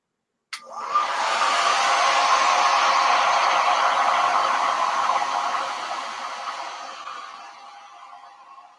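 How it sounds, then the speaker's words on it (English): A hair dryer blowing on a watercolor painting starts with a click and roars steadily and loudly at close range for several seconds, then slowly fades as it moves away or winds down. "I think I might have to put the hairdryer on again"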